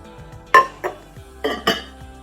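A vintage ceramic covered dish is handled, giving several sharp ceramic clinks and knocks as the lid and base touch, close and fairly loud, spaced irregularly with quiet between.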